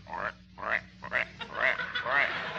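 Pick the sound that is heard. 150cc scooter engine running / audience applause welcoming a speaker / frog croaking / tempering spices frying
frog croaking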